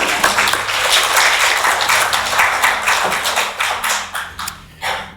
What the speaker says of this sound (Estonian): Selle eest oleks aplaus talle veel.